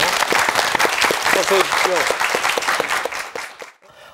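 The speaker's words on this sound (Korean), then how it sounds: "이런 박수로 환영을 해주십시오." A studio audience claps loudly to welcome a guest on a Korean broadcast, dense applause dying away near the end, with a host speaking briefly over it.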